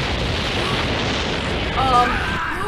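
A loud, rumbling explosion from the Death Note anime fills the scene with a dense, continuous roar and swells near the middle, while indistinct voices sound faintly underneath.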